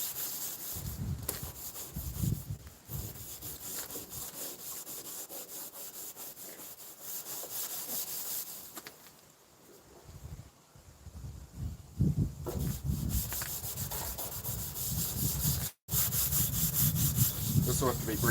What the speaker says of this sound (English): rough it up. This is a proper abrasive